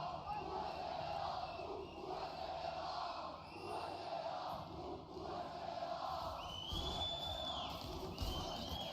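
Large arena crowd at a League of Legends esports play-in match, a steady roar of cheering and shouting that swells and dips in waves, heard from a distance.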